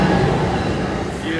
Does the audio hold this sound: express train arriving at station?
yes